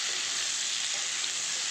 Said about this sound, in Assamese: কণী আৰু আলু মই ভাজি আছোঁ।